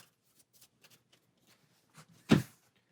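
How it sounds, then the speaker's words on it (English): Quiet fumbling and light taps of a deck of game cards for the Maximum Apocalypse board game, then one short burst of riffle shuffling, close and crisp against near silence. "for the red cards, here we'll give that a shuffle"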